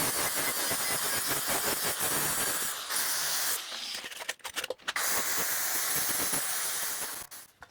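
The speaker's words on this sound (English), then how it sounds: "Flap disc." A flap disc grinds a custom car emblem with a loud, steady abrasive hiss that breaks into uneven bursts and brief pauses midway, then runs on before cutting off.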